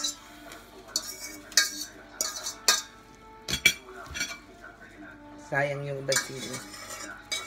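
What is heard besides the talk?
spicy noodles being transferred onto a plate with utensils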